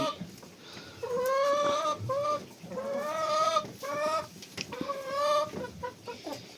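Roosters cluck and call loudly up close, several drawn-out vocal bursts in a row with brief pauses between them.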